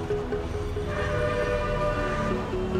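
A passing train rumbles steadily and loudly throughout, with sustained horn-like tones rising above the rolling rail noise.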